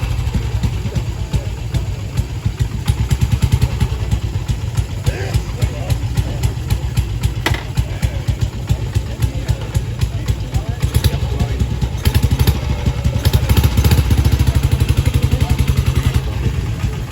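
A side-valve classic motorcycle engine, model 16.8, idles with a steady mechanical clatter and rapid ticking at a classic car and bike show. A broad rumble from other engines runs underneath the whole time.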